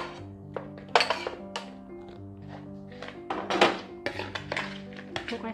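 Fresh naem, a Thai fermented pork sausage, tossed with ginger and shallots in a bowl for a salad, giving scattered soft thunks and light clinks of a utensil against the dish over a steady low background hum.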